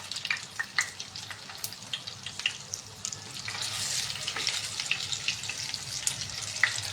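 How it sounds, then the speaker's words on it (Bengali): Veg seekh kebabs fry in oil over a medium-low gas flame with a soft, steady sizzle, punctuated by light clicks and spatters throughout. "এইভাবে আমার বাকিগুলো ভাজা হবে।"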